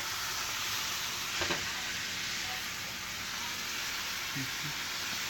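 Burger patties sizzle steadily in a greasy pan just after being flipped, a broad continuous frying hiss with a brief louder crackle partway through and a faint clink near the end.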